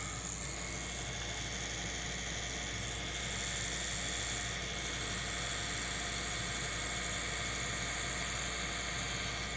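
A tattoo machine buzzes steadily and continuously with a low drone underneath, close and unbroken throughout, with no talking.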